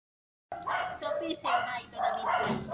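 A small Japanese Spitz x Pomeranian cross dog barks in several quick sharp yaps after a moment of silence, close and moderately loud, with voices mixed in.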